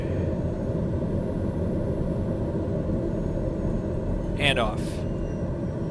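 Steady, loud turboprop drone from a TBM930 engine spooling up in Microsoft Flight Simulator, a broad continuous roar that holds throughout while a person speaks briefly over it near the end.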